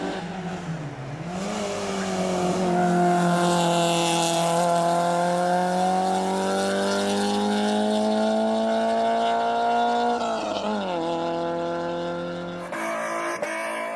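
A BMW 316 rally car launches hard at a hill climb, its engine revving loudly and holding a high, steady note close by, then sweeping down as it passes and fades, with some tire noise.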